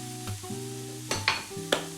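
Red onions and beetroot leaves sizzle in a frying pan while being stirred, a soft steady fry broken by several scraping stir strokes, close by with no talking.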